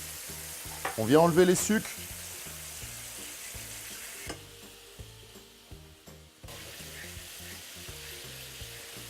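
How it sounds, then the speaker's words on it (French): A pan used for scallops is deglazed with hazelnut coffee liqueur and sizzles and hisses in a steady, close frying crackle while a person speaks briefly over it. "on vient déglacer notre poêle avec la liqueur de noisette et café"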